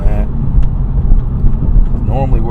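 An Acura Integra with a limited-slip differential pulls hard through a night drive, its engine a loud, steady low rumble heard from inside the cabin, with a voice speaking briefly at the start and again near the end.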